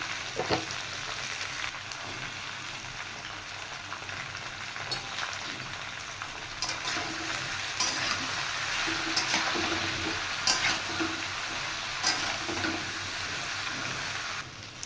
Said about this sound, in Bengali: তেল গরম হয়ে গেছে আমি এঁচড়গুলো ছেড়ে দিচ্ছি এবার আমি নুন আর হলুদটা দিয়ে ভালো করে এঁচড়টা ফ্রাই করে নেব